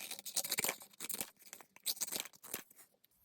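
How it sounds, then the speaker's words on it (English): Large scissors snipping and tearing through cardboard in quick uneven bursts with brief pauses, close by and fairly quiet. "Get a nice big pair of scissors and cut those out."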